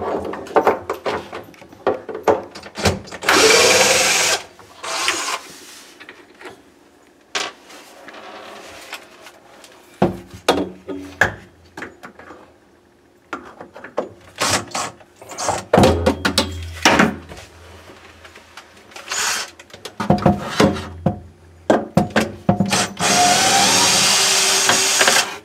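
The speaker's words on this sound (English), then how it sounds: "So first thing we're going to do is we're going to take out the screws now." A power drill backs screws out of cabinets to free a countertop, giving short intermittent whirring bursts mixed with clunks and handling knocks nearby.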